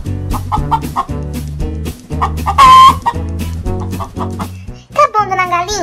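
A pet hen clucks in quick, repeated bursts close by. A brief louder call stands out midway, and a bouncy musical backing plays throughout.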